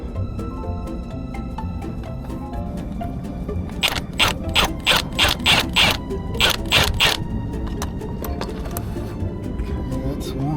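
A ratchet wrench runs bolts up on a Detroit Series 60 water pump hose, with a quick burst of sharp, evenly spaced clicks over a few seconds amid a steady mechanical background.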